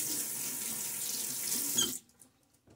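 Tap water runs steadily into a sink while shaving lather is being made, a loud hiss that stops abruptly near the end, leaving a few faint drips and clicks.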